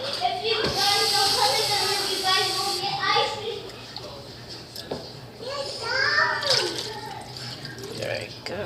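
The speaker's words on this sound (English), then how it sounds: "I'm just gonna rinse it all up." Running water rinses out a dirty bird water dish, splashing and trickling steadily while children talk and play loudly nearby.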